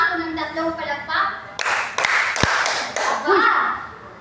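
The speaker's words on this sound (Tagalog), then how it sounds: "bigyan nyo nga ako ng 3 palakpak" A class of children claps three times in sharp bursts at a teacher's request, after children's voices, with speech continuing around the claps.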